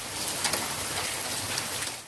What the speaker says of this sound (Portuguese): As pedrinhas de gelo caíram nos gramados em Pelotas e também nos pátios das casas